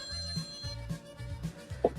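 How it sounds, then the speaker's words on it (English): A telephone rings for an incoming call during a radio-style talk show, with short repeated electronic ring bursts in a steady rhythm, fairly close and clear, with no talking over it. "we got a phone call right now"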